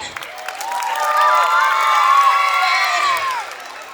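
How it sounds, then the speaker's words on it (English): An audience at a school Dussehra celebration cheers and whoops for the teachers, a loud sustained swell of crowd and children's shouting that rises, holds and tapers over several seconds. "Let's cheer for our teachers once again."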